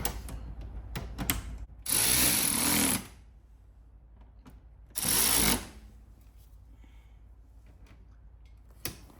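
Screws from a kit are driven in with a power tool, heard as two loud, close buzzing whirs of about one second each, with quieter clicks and handling noises between them.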